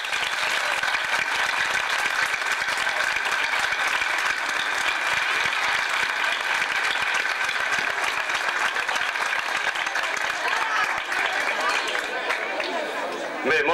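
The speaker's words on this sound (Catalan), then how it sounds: "jo demano un aplaudiment per a ells en la presentació oficial al nostre poble" A village crowd applauds young gralla players at their official presentation in 1986, with steady, dense clapping that holds at an even level for the whole stretch.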